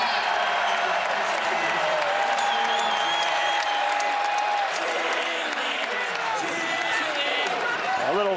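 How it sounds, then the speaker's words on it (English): Arena crowd at an Alabama at Florida SEC men's basketball game, a continuous loud roar of cheering and applause throughout, with a whistle-like tone and voices mixed into the dense noise. "Listen to the crowd."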